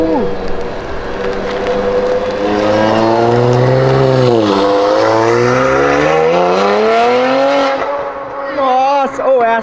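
A car launches hard at a car meet, its engine revving up loud and close in rising, wavering pitch sweeps, dipping once and then climbing again, with a crowd shouting over it.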